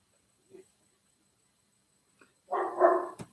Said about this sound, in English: sorry, my dog Frank is barking. If you heard that